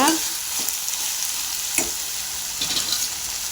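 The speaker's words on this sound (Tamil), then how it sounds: "பாவக்காயை சேர்த்து நம்ம அந்த எண்ணெயிலே ஒரு 5 நிமிஷம் வதக்கணும்" Sliced bitter gourd sizzles steadily as it sautés in hot oil in a pan for a Tamil-style pavakkai kulambu, with a few soft stirring scrapes over the constant frying hiss.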